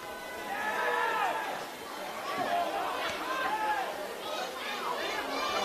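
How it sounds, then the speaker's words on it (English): A large football crowd at Cromer Park chatters and murmurs in a steady, loud wash of babble, with scattered shouts rising from the stands during a Manly United versus Sydney Olympic NPL NSW match. "The crowd here, a very, very good one at Cromer Park."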